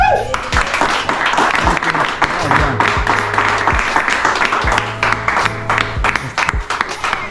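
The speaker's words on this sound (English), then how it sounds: "Round of applause." Dense applause from a crowd fills the whole stretch, steady and loud, with sharp thumps and voices mixed in underneath.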